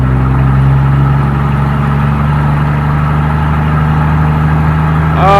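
Old 1978 Chevy C10 pickup, off the road for 24 years, engine running with a loud, steady low idle hum and a slight rise in pitch at the very end.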